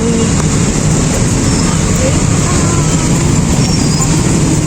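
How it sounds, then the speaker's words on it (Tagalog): Steady road traffic hums in a busy Bicol town street near a plaza, with many cars and vehicles passing continuously at close range. "daming mga sasakyan dito dumadaan guys"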